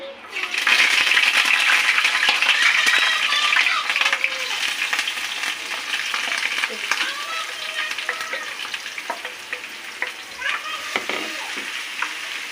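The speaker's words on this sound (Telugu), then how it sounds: "పెట్టుకున్న ఉల్లిపాయ పచ్చిమిరపకాయలు కరివేపాకు కొంచెం ఆయిల్ మరిగిన తర్వాత వేసుకోవాలి" Onion, green chillies and curry leaves hit hot oil in a prawn fry, erupting into a loud, steady sizzle with stirring scrapes and pops that carries on throughout.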